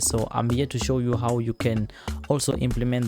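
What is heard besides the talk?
No everyday noise stands out behind the speech.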